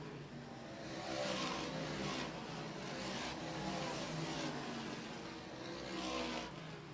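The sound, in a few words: race cars on a dirt racetrack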